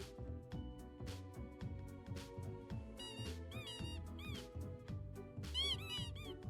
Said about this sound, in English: I love squeaking toys.